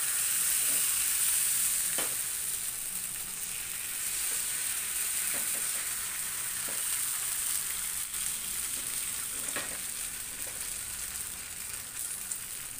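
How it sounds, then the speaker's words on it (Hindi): Neer dosa batter sizzling on a very hot griddle, a continuous close hiss and crackle with a few faint scrapes scattered through, steady and unbroken with no voices. "तवा एकदम गर्म होना चाहिए जब आप ये आटा डालेंगे ना"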